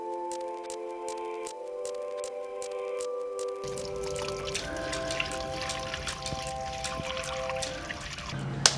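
Water poured into a container over a block broken into smaller pieces to soak and expand, in a balcony garden; a steady pouring and trickling rush builds partway through, with drips and small squishy splashes, close and continuous.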